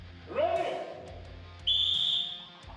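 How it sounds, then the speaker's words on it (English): A referee's whistle at a strongman giant dumbbell event sounds twice: a short sharp blast, then a longer high steady blast, both close and loud over a quiet room with faint voices. "Whistle."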